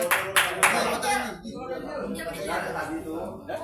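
Applause breaks out for a group of teachers at a classroom session, bursts of clapping early on fading under continued talking and murmuring.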